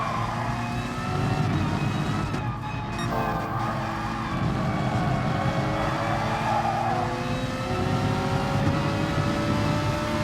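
Racing cars in a GT series race at Red Bull Ring in a racing video game, a Ferrari 458 among them, roar continuously with engine notes rising and shifting through gears as the cars run close together.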